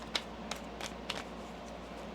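A few soft, brief riffling bursts of tarot cards being shuffled, spaced apart over a quiet background with no voices.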